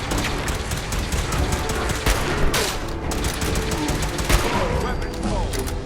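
Rapid bursts of combat shotgun fire in Fallout 4, dense and continuous over the whole stretch with sharp repeated blasts and clattering shots, loud and close with no pauses.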